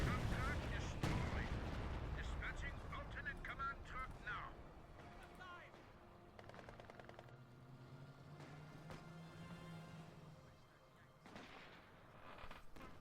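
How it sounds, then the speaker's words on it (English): Bomber air strike in Company of Heroes 2: heavy explosions and rumbling booms open loudly, then settle into scattered blasts and gunfire with engine drone, while a voice talks over the battle. "there's a bomb strike coming in right now"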